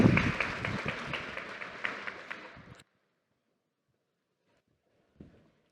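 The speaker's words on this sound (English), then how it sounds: "So please, warm round of applause to Professor Arno Sulin." A conference audience at a health design event applauds a professor's introduction with a dense burst of clapping that fades and stops abruptly after about three seconds, followed by near silence and one faint knock.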